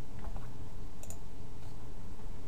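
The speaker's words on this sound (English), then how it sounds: "So I'm just going to type in JDK." Typing on a computer keyboard while setting up a web app: a few soft, scattered key clicks over a steady low hum, close but quiet, with no voices.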